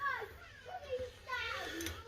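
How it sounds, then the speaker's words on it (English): Children scream and shout in high, wavering voices from a neighbouring yard, faint and distant behind a garage where hubs and bearings are being fitted to a Mk3 Golf GTI. "sorry about the kids screaming next door neighbours"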